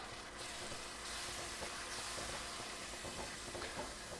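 A pot of homemade barbecue sauce made with ketchup, molasses, brown sugar, cumin and dry mustard is stirred as it cooks, giving a faint, continuous bubbling hiss with light scraping.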